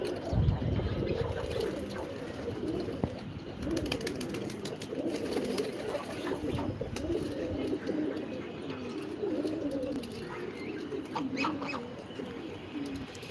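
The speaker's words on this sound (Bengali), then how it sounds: "কবুতরগুলো একদম সরাই ছিটে যাচ্ছে একদম খাওয়া দাওয়া শেষ রেস্ট নিচ্ছে" Pet pigeons resting after feeding keep up a steady, overlapping murmur of throaty coos, close and continuous.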